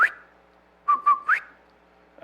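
A person whistles an imitation of a bobwhite quail call: a short rising note, a pause, then three quick clear whistled notes with the last sliding upward, heard alone in a quiet room.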